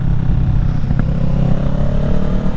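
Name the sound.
2023 Kawasaki Ninja 650 motorcycle accelerating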